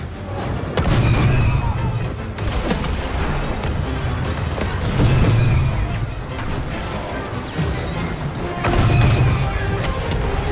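Heavy explosions tear through anti-aircraft cannons in a Star Wars Battlefront II battle, with several loud booming blasts spaced a few seconds apart over a constant roar of combat noise.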